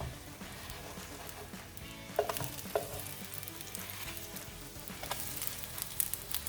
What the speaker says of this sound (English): So let's get those flipped over.